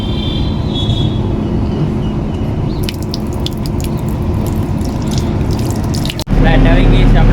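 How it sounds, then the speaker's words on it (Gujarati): Tap water runs steadily while hands are washed, a continuous close splashing rush that shifts abruptly in character just before the end. "તો હાથ ધોઈ નાખીએ"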